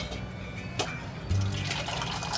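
Cooking water, set aside earlier, is poured into mashed fenugreek-leaf dal, giving a gurgling liquid pour that grows louder midway, with faint kitchen clatter around it.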